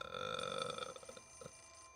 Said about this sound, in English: I gotta answer this fucking phone.